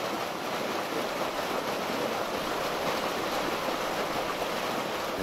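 Steady rushing flow of water in a stream at a rangeland research site's weir, a continuous even wash with no breaks and no voices.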